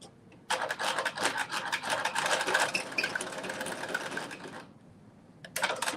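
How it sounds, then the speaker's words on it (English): A sewing machine that needs cleaning and is making odd noises runs in a fast, steady mechanical rattle for several seconds, stops briefly, then starts up again, close and loud. "I'm gonna have to clean out my sewing machine, because I hear it making these noises"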